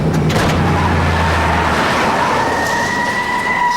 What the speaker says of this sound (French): Il monte dans son camion.